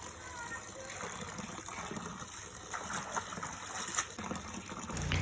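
Plant leaves, a Peperomia pellucida herb, being washed in water, with steady gushing and trickling under faint background noise and no clear talk.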